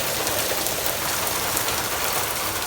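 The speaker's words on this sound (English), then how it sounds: "it's beginning to rain actually" Steady rain falls outdoors in a subtropical garden, a dense even hiss of drops on surfaces, close and constant with no pauses.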